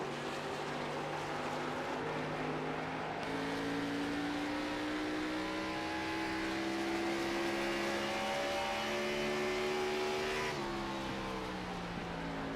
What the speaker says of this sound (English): You just hear that engine